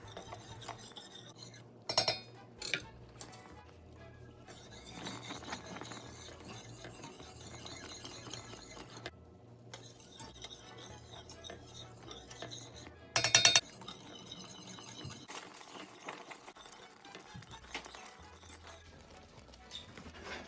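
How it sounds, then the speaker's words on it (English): Majarete pudding being stirred in a pot on the stove, a spoon scraping and clinking against the pot's sides and bottom in a steady, close, moderately quiet rhythm, with a few sharper metallic clinks. "Then you come back to it and you stir it."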